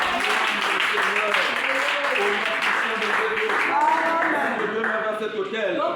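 A church congregation at a Pentecost service applauding steadily throughout, a dense mass of clapping mixed with voices and singing.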